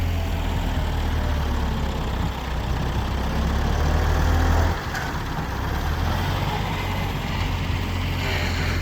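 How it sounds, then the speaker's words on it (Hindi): A tractor's diesel engine runs steadily and loud while soil is loaded into a trolley, a continuous low rumble with a brief dip in level near the middle. "काफ़ी ज़्यादा शोर है ट्रैक्टर का"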